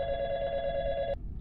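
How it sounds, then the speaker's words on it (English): A hotel room telephone rings loudly with a steady electronic trill, close by, then cuts off abruptly, leaving a quiet room. "suddenly the hotel phone started ringing"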